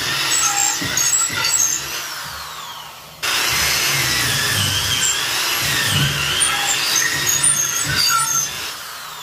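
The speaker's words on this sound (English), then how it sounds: "I just get a drill, a good long drill bit, and drilled all the way down through the wood" A drill drives a long bit down through a wooden base for a mounted turkey. After some uneven mechanical noise, a loud, close, continuous whining drone starts about a third of the way in and wavers in pitch as the bit bites.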